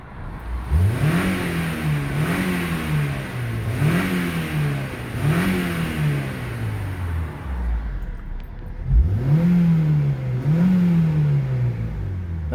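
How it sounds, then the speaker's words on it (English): A stock-exhaust Acura RSX engine revs repeatedly, about six rising-and-falling bursts with short pauses, fairly mellow and not very loud, heard close by. "I can kind of rev it up for you."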